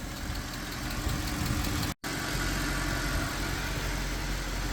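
Steady idle of a 6.2L M156 V8 in a Mercedes E63 AMG, a low continuous engine rumble with a faint ticking valve train, close and loud, cut by a brief dropout near two seconds.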